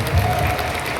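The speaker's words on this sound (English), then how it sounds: "Put your hands together for the team." Dense, steady clapping from an audience fills the brief moment, loud and continuous.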